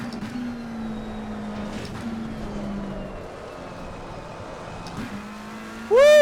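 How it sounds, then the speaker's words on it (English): A race car in the racing video game Assetto Corsa Competizione, driven in VR on an American track, gives a steady engine drone with gear-shift dips. A sharp tire squeal starts at the very end, with no one speaking. "Woo! Drifting!"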